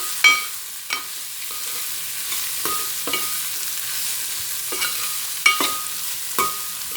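Beans being stirred and fried in a pan for a fresh coconut curry: scattered spoon scrapes and knocks against the pan every half second or so over a soft, continuous sizzle, close up with no talking.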